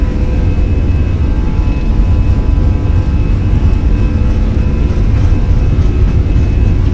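Airliner jet engines at takeoff power in Microsoft Flight Simulator during an Iberia Express flight at Ibiza, a loud steady roar with a sustained whine running throughout.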